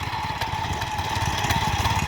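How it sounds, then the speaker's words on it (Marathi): A farm tractor engine running in a village field at sowing time, a steady, loud mechanical chug with a constant hum and no voices. "इकडे बघताय दादाचा ट्रॅक्टर चालू झाला आहे"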